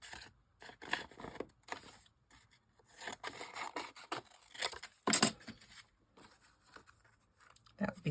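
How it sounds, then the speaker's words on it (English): Scissors cutting a piece of card for a handmade die-cut card, a series of close, quiet snipping and rasping cuts in irregular bursts, no voices. "So I will just cut a piece out."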